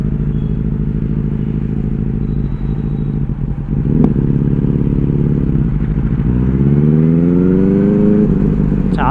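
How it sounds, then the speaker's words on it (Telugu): Benelli 600i motorcycle fitted with an IXIL exhaust, idling with a loud, deep burbling rumble close by, then a throttle blip and a rising rev climbing in pitch toward the end. "దీని సౌండ్ ఎట్లా ఉందంటే ఎగ్జిల్ సౌండ్ ఫుల్ గ్రాంట్ ఉందన్నమాట"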